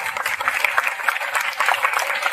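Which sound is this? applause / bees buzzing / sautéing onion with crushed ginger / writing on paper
applause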